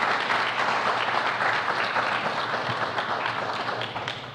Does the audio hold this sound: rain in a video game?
no